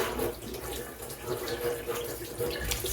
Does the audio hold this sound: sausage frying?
no